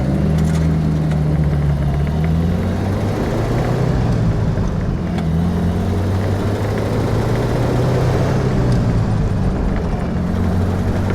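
A 1934 Packard Super Eight Boattail Speedster on the move, its engine giving a loud, steady low drone with gently rising and falling pitch as it drives along, with road rumble underneath and no talking.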